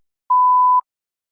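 A single clean electronic beep, steady and mid-pitched, lasting about half a second in silence.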